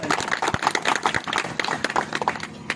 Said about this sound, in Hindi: तालियां बजाते हैं जबरदस्त वाली